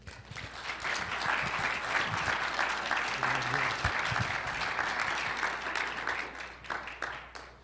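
An audience at a Tea Party general meeting breaks into sustained applause, a dense, steady wash of clapping lasting several seconds before tapering off.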